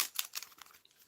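Cellophane-style wrapping on a CD crinkles and crackles close up, in a quick burst of sharp rustles that taper off within a second.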